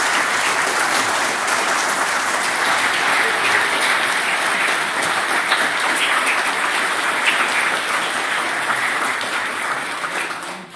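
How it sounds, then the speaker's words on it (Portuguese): An audience at a formal ceremony gives sustained, dense applause to welcome a guest of honour. The clapping stays loud and even for about ten seconds, then begins to taper at the end. "Vamos recebê-lo, uma salva de palmas."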